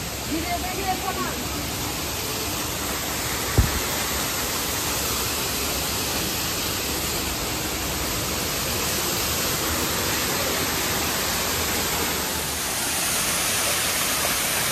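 A steady, loud rush of a monsoon waterfall at a forest shrine site in Meghataburu, Jharkhand, a continuous broadband roar filling the whole stretch with no breaks, close and unchanging.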